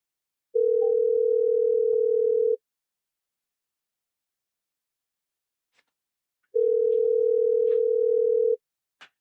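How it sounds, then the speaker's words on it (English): Two long steady telephone ringback tones, about two seconds each, separated by a gap of silence, clean and close. "I think I hear it ringing, Casey."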